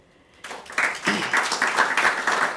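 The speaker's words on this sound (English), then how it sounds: "can we applaud her?" Audience applause at an awards ceremony, a dense spread of clapping that starts abruptly and holds steady and fairly close, with a voice briefly showing through near the start.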